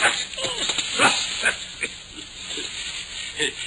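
A dog tugging at a shoe growls and snarls in short, rough bursts, close and fairly loud, with a voice speaking over parts of it.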